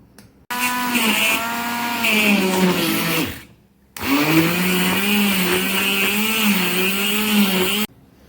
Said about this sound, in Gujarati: હવે આપણે બ્લેન્ડર કરી દઈશું આને, એટલે એક રસ બધું થઈ જશે।